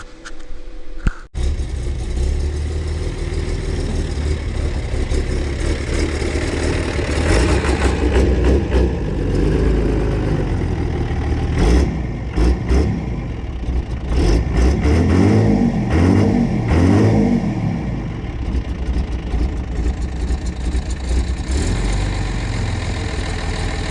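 An old scrap tractor brought back to life runs with a rough, loud, continuous engine drone, revving up and down in uneven bursts, steady throughout with no talk.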